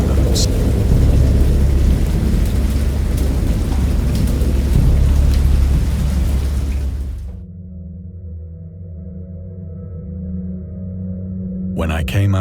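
Heavy rain and rolling thunder from a storm in the video game Dagon pour loudly for about seven seconds, then cut to a quieter low droning tone.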